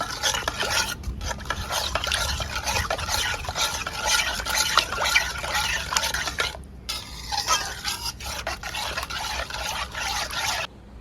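A spoon stirs an ice cream mixture thickened with cornflour in a bowl, a continuous close scraping and swishing with rhythmic clinks against the sides, pausing briefly twice before stopping abruptly.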